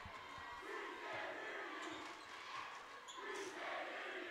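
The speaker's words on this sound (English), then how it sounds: "As the crowd gets into it with each other." Crowd noise at a high school boys basketball game, a dense steady roar of many voices shouting and murmuring throughout, fairly distant and continuous with swells near the middle and end.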